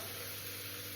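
Bone-in chicken pieces go into a soup pot with a soft, continuous sizzle, faint and brief, with no talking.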